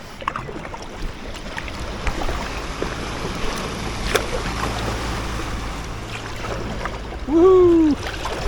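Water laps and sloshes steadily against a packraft carrying a folding bike, rocked by waves from a passing launch boat, with a rising voiced whoop near the end.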